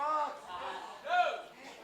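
A wrestling crowd at a match, shouting and chanting together in a rising and falling roar of voices.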